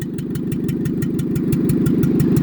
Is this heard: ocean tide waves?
no